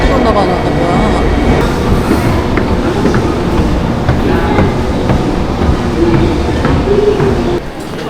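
Train rumbling at a Japanese railway station platform in Kokura, Kitakyushu, with steady loud rolling noise and faint squeals throughout, likely a train arriving or idling beside the platform.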